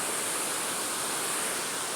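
A waterfall seen from a bridge sends up a steady, dense broadband rush of falling water, loud and close, with no break or voices.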